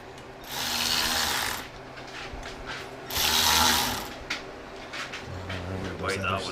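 Bolts screwed by hand into a Polaris clutch cover, bursts of clicking ratchet mechanism and metallic rattles up close, with people talking over the work.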